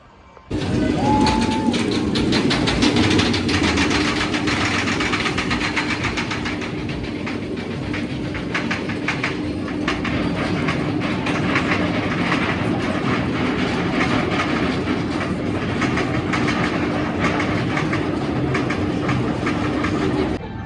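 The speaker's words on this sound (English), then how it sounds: "we're going to go for a ride on the park's B&M dive coaster, Oblivion" Steady loud rumble and rattling of a B&M dive roller coaster ride on Oblivion at Alton Towers, continuous for the whole stretch with no talking, like riding close on the track.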